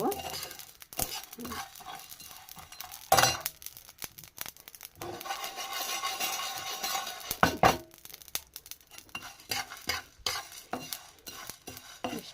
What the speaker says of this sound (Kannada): ಹಾಕೊಂಡು ಫ್ರೈ ಮಾಡ್ಕೊಂಬಿಡೋಣ ರೀ ಇದು ಬಿಸಿ ಮಾಡ್ಕೊಂಬಿಡೋಣ ರೀ